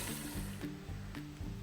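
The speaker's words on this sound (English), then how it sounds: "And let it keep frying." Chicken breast deep-frying in hot oil, heard as a steady, soft crackling sizzle over a low background hum, with no talking.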